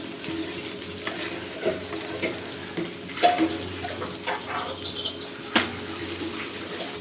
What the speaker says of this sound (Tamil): தோசையை பார்த்தீங்கன்னாக்கா நம்ம சுற்றி போடலாம்